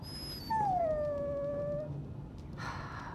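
A Dragon Age Origins warhound lets out a single drawn-out whimpering howl that slides downward in pitch and then fades. A low game ambience hums underneath it.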